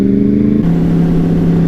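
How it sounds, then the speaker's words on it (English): A sport bike passes nearby on a busy Saturday night street, its engine note holding steady and loud, then shifting lower as it moves by. "Oh hey, there's another sport bike."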